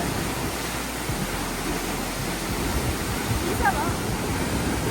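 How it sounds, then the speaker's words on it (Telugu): A waterfall in Wayanad, Kerala, gives a constant, dense roar of rushing water that stays even and fairly loud throughout, heard from nearby with no break. "మేము ఇక్కడ వాటర్ ఫాల్స్ దగ్గర కూర్చున్నాము."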